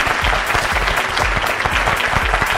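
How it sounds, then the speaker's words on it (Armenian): Loud, dense applause from a studio audience congratulating second-place winners on a TV show, many hands clapping close and continuously with a slightly rhythmic pulse and no break. "Շնորհավորում եմ ձեզ երկրորդ տեղի կապակցությամբ ձեր ծափահարությունները"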